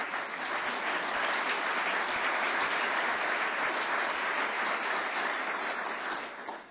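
An audience at a city's State of the City address applauds in a sustained burst of dense clapping that holds steady and then fades toward the end.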